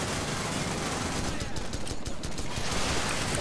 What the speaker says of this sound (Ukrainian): Диви, з кимось тут стріляється.